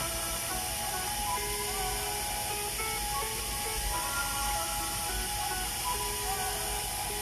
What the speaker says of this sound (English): I'm kind of just polishing them out and getting these rough spots here a little more smoothed out